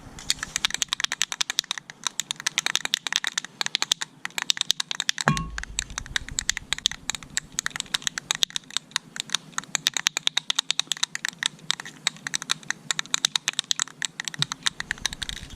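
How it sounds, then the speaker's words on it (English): A VHT Wrinkle Plus spray paint can shaken hard, its mixing ball rattling in a fast, steady stream of close, sharp clicks that runs on without a break. "just give the can a good shake for a minute at least"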